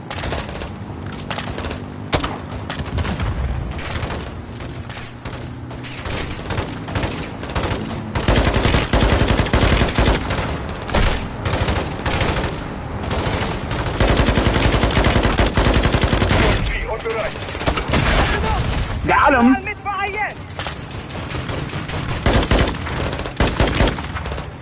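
Heavy sustained gunfire from friendly soldiers in Call of Duty Modern Warfare 2, with rapid machine-gun bursts and volleys running almost continuously, loud and close, with occasional shouted voices in the battle.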